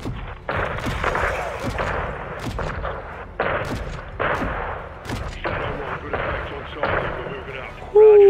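Heavy, repeated booming blasts from an AC-130 gunship firing on a greenhouse in Modern Warfare 2, spaced bursts rolling out at a distance with a voice talking between them.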